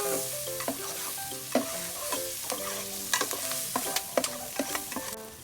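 Chopped onion frying in a pan for Filipino sopas, with a steady sizzle broken by repeated scraping stir strokes of a utensil against the pan, close up and with no talking.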